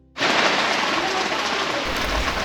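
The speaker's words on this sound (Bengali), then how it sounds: "অবশ্য ঝিরিঝিরি বৃষ্টি।" Light drizzle outside a forest bungalow in Mongpong on a wet morning cuts in abruptly as a soft, even hiss of rain that holds steady to the end.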